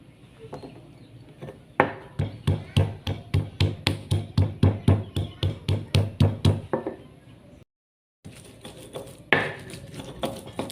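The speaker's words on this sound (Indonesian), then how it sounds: "Selanjutnya saya mau tumbuk per bawang putihannya pun." Garlic is pounded with a mortar and pestle while cooking Betawi beef rib soup, a steady run of sharp, evenly spaced thuds close by that pauses briefly before a few more strikes.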